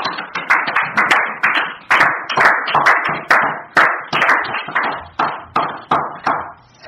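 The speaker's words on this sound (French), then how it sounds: "J'aimerais que tu acclames encore le Seigneur." A church congregation claps in a steady rhythm to acclaim the Lord, loud and close, with some echo, before the claps fade near the end.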